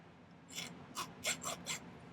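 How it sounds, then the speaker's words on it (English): A hand file rasps notches into a silver bird pendant in five short, crisp strokes spaced about a quarter second apart, close and fairly quiet with no talk. "So I'm filing these notches"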